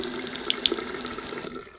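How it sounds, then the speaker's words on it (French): Water runs steadily from a tap in a rundown house under renovation, a close, continuous splashing flow into a basin that fades at the very end, with no talk. "l'eau marche, regardez."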